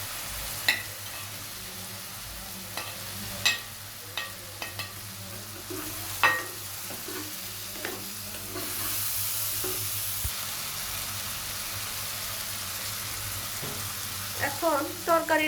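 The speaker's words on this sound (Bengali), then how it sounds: "এবার আমি ভেজে রাখা আলুগুলো দিয়ে দিব।" Fried potatoes and tomato slices sizzle in a pan while a spoon stirs them, the steady hiss punctuated by sharp clinks and scrapes, swelling louder midway and clattering again toward the end.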